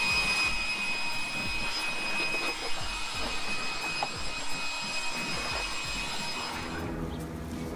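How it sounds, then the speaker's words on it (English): A Ryobi 40-volt cordless leaf blower blasts air to clean off tools, a steady loud roaring whoosh that holds throughout and eases slightly near the end. "using the blower to clean off your tools"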